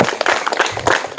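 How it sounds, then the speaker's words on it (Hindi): Loud, close clapping from a crowd cheering a quiz winner among the children, dense uneven claps with sharp individual hits rising and falling over the short burst. "अमित कुमार, इनके लिए भी जोरदार तालियां"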